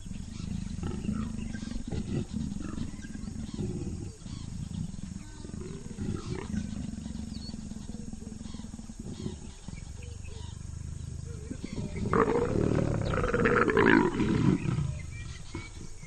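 Leopards in tall miscanthus and sedge grass growl and roar during an aggressive mating, a low rumbling throughout that swells into a louder, harsher burst of snarling near the end.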